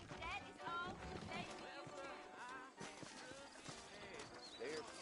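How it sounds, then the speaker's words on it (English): Horses trot in the Red Dead Redemption video game with a rhythmic clip-clop of hooves, mixed with ambient game sounds and people talking over them. "I got the horses saddled up and ready out front."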